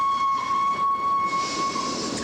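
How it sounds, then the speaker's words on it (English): A passenger train travelling through the night gives a sustained whistle-like tone over a soft rolling rumble, close and fairly loud throughout. "I love trains."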